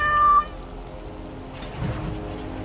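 A cat meows once in a video game, a short, loud, clear call at the start, then fading into quiet game ambience.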